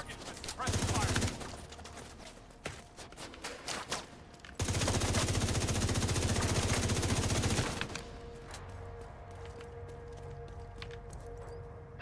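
Bursts of suppressed automatic gunfire in The Division 2 come in two long, loud, dense volleys with a brief break between them, then quieter ambient game noise.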